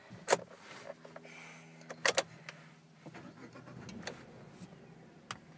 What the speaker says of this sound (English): So that's basically what it's like with the engine on.